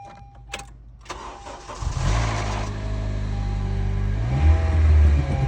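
A 9th-generation Honda Civic engine cranks and catches, with a brief rattle from a worn VTC intake cam gear at startup, then settles into a steady, loud, close idle.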